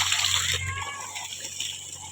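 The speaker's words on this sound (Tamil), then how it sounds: "தண்ணி எப்படி ஊற்றிட்டு இருக்குன்னு பாருங்கள்" Irrigation water pouring and gushing across a farm field planted with sugarcane, maize and cowpea, a steady close rush that eases slightly after the first half second and continues evenly.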